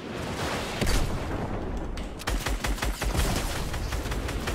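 Explosions and bursts of gunfire from a Fortnite match crackle loudly and densely throughout, with a heavy boom near the start and a run of sharp blasts in the second half.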